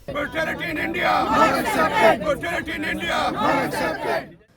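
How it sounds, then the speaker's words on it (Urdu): Protesters chant slogans against the Modi government at a demonstration over Kashmir, loud rhythmic crowd voices rising and falling in repeated bursts, with some babble between the chants. "مظاہرین نے مودی حکومت کے خلاف شدید نعرے بازی کی۔"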